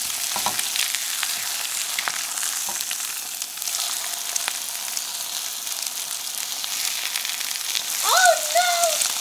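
Three eggs seasoned with salt and pepper fry in a pan, giving a steady, close sizzle and crackle that lasts throughout, with a brief scrape near the end.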